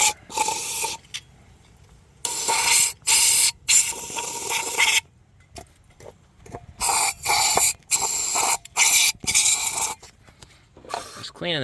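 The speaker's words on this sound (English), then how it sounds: "Get that hose down in there along the edges of the valve" A hose sprays water down around the engine valves of a 1991 Dodge Caravan, loud close bursts of hissing spray that start and stop in an uneven rhythm, separated by short quiet gaps.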